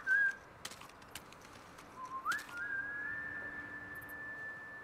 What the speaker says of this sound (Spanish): ¿No puedo chiflar?